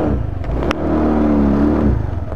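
A Honda PCX scooter, 2015–2016 model, revs its engine up close, a loud steady buzzing drone with a brief sharp click near the start, running alone without talk.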